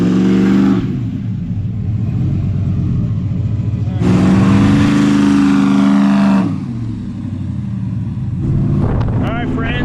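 LS-swapped heavy truck revving hard for a neutral drop, engine rumble rising into a loud surge mid-clip then settling back to a steady idle-like drone, with people talking over it.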